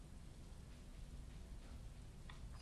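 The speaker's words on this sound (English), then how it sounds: "walking around in the rain in Stardew Valley when it's all nice and quiet" Steady soft rain falling in the Stardew Valley video game, a constant gentle hiss with no talk, plus a couple of faint brief chimes near the end.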